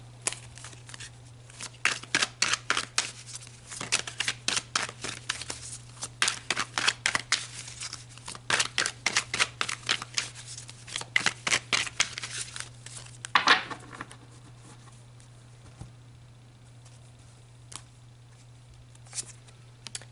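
Tarot cards are shuffled close by in rapid, crisp bursts of riffling and slapping for about twelve seconds, then a few cards are drawn and laid down with soft, sparse flicks over a faint steady hum, with no talking.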